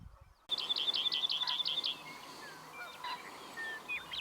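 A wren sings among the rocks at Writing-On-Stone, Alberta: a close, bright, rapid trill of repeated notes lasting over a second, followed by a few fainter chirps against soft outdoor ambience.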